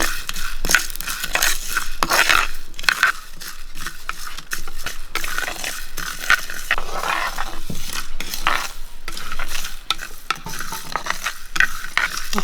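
Whole spices such as peppercorns, cinnamon, cardamom, star anise and cloves are dry roasted and stirred in a pan for a Kerala-style soya chunk curry, with continuous close scraping, rattling and light sizzling and no talk.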